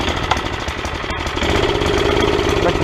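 A small mini bike engine runs close by, a steady rough idle with a chattering, knocking pulse that rises slightly in intensity partway through, loud and with no talking.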